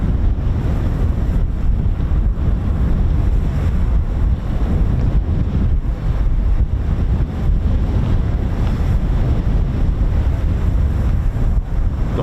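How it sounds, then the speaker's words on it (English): Strong wind buffets a microphone outdoors at an air show, producing a loud, continuous rumbling roar that persists for the whole stretch with no other sounds standing out. "It is very windy."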